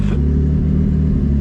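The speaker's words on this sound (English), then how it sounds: "The exhaust dump doesn't sound too bad, but it's just pretty loud." Nissan Z with an exhaust dump, a loud, deep droning rumble from close by as the car drives, steady throughout with no speech.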